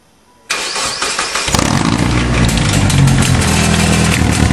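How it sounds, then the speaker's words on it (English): A 1997 Mazda with a modified exhaust cranks and fires up after a brief silence. It is loud and close, settling into a rough, throaty idle that grows steadily fuller. "This is going to be the first time we fire it up and listen."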